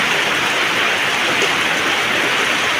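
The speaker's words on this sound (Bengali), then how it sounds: "কি পরিমাণে বৃষ্টি হচ্ছে এই দেখো নিচে জলগুলো বৃষ্টির জল" Heavy rain falls from a dark, clouded sky, water collecting on the ground below, producing a loud, constant roaring hiss close by with no pauses or voices.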